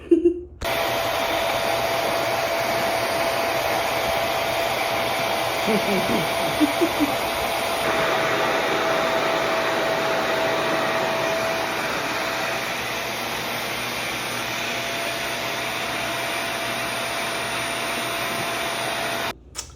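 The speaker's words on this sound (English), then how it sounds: "I got Julian to blow this out for me with the rev air, because I hate doing it." A RevAir hair dryer blows out natural hair in a steady, loud, continuous whooshing roar that holds for nearly twenty seconds, with a brief shift in tone partway through as sections are dried.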